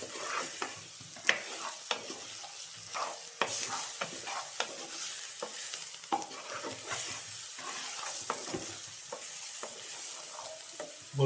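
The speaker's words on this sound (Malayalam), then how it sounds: "മല്ലിപ്പൊടി ഇട്ടിട്ട് ഒന്ന് സോട്ട് ചെയ്യുക" Coriander powder sautéing in a pan with gentle sizzling, stirred by frequent close scrapes and taps of a spoon, quiet and steady throughout.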